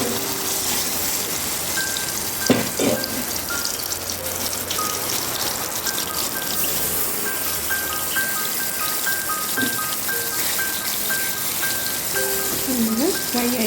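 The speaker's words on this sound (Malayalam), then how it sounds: "നമ്മളിവിടെ എടുത്ത് വെച്ച കൂന്തൽ ഇവിടേക്ക് ഫ്രൈ ചെയ്യാൻ വേണ്ടി ഇട്ട് കൊടുക്കുകയാണ്" Squid frying in hot coconut oil makes a dense, close sizzle and crackle that holds steady throughout, with faint background sounds underneath.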